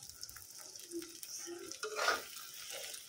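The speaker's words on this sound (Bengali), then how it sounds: "এখানে যে ডিম ভাজা নিতেছি" An egg fries in a pan with a soft, close sizzle, joined by light stirring and a brief scrape of utensil on metal, with no talking.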